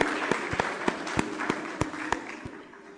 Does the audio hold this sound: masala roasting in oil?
no